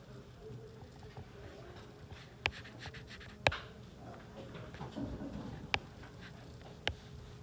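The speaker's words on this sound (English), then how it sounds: "So I'm going to draw a trapezoid." A trapezoid is drawn by hand: quiet, scratchy strokes with a few sharp taps spread across the stretch, close and faint.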